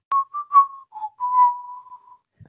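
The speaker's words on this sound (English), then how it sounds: "whistling the music in the other room" A person whistles a tune from another room, a clean series of sustained and short notes in a bright pitch, heard alone with brief pauses between phrases.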